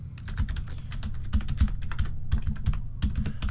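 Fast, steady typing on a Redragon computer keyboard, with crisp, close key clicks in irregular bursts over a low steady background hum and no talk.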